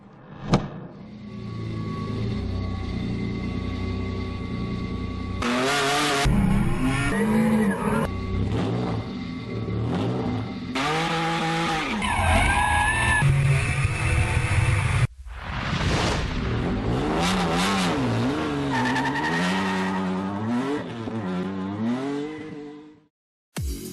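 A Hyundai Genesis Coupé drift car skids with loud tire squeal and a revving, wailing engine in repeated bursts of acceleration and sliding, broken by short pauses.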